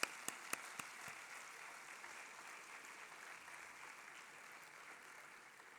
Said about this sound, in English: I think he deserves a huge applause first.